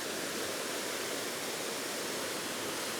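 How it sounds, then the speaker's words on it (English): Small waterfall cascades and streams of water pour down from a rocky pool outdoors, a steady, close, full rushing roar with no pauses. "I'm automatically drawn to all of these smaller cascades, all of these streams of water that are coming down from this one pool"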